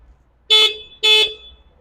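Two short, loud honks from the horn of a battery-powered 504 Plus electric bike, evenly spaced about half a second apart, close and clear against near silence.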